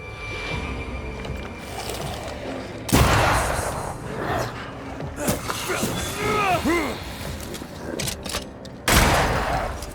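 Gunfire from a weapon in the video game Banishers: Ghosts of New Eden, loud sharp blasts at the start and near the end with busy game effects and sweeping tones between, while someone talks over parts of it.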